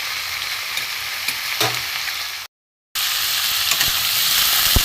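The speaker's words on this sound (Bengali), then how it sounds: "একটু ভালো করে সবজিটা ভেজে নেব।" Mixed vegetables, pumpkin, pointed gourd, flat beans, ash gourd and eggplant, fry in a pan with a steady loud sizzle and occasional stirring scrapes, cut by a brief silent gap.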